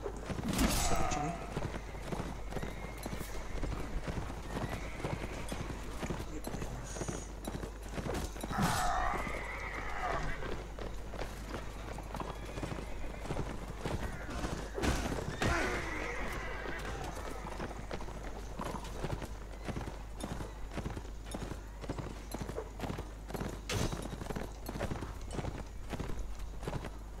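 A horse neighs and whinnies while its hooves clip-clop along, with scattered sharp hoof knocks and rustling over a steady low background hum, loud and close.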